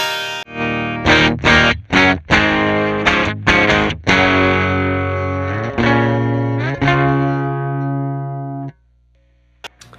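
Clean electric guitar plays a series of plucked notes and ringing chords, bright and sustained, then cuts off into near silence.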